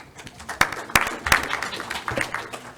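A small conference audience applauds a speaker's introduction with sparse, uneven clapping, a few sharp loud claps standing out over lighter scattered hands, brief and close.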